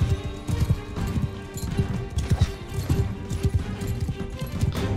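Rapid horse hooves clip-clop across a Mount and Blade II Bannerlord battlefield, a steady galloping rhythm close and fairly loud beneath a busy bed of game combat noise.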